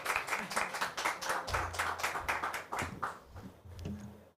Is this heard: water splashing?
no